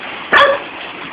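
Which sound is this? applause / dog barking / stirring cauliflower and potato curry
dog barking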